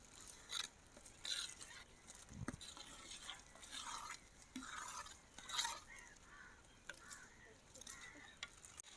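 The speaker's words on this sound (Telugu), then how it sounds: "మొత్తం కలిసేలాగా కారము పసుపు మసాలాల్లోకి బాగా పట్టేట్టుగా కలుపుతున్నా" Egg and potato curry with chilli powder, turmeric and masala stirred with a spoon in a pot, giving soft scraping strokes and light clinks at a moderate, uneven pace, fairly quiet throughout.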